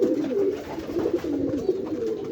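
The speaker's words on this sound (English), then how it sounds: "So racer pigeon, newly come racer pigeons" Young racer pigeons, about 45 days old, coo softly and continuously in a loft of white birds. The low, rolling coos overlap one another in a steady, close chorus.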